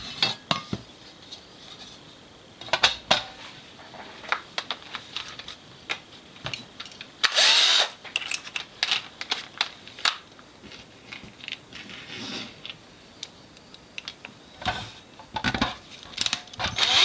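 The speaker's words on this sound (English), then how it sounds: "So just tighten those up nice and firm." Small fasteners being tightened on an ECU board installation for an S14a SR20DET, giving scattered metallic clicks and ratcheting ticks at an irregular pace with one brief louder rasp partway through, fairly quiet and close.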